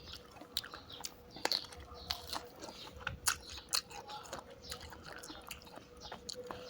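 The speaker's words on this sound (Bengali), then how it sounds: "একটু বড়ি খাচ্ছি লবণ মরিচ দিয়া।" Someone bites and chews boroi (jujube) fruit dipped in salt and chili, giving sharp crunchy bites and wet chewing close to the mouth, fairly quiet and without talk.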